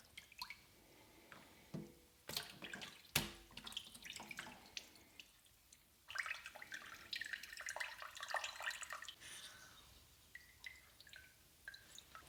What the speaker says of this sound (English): squeeze any water I can that comes out of it into the jug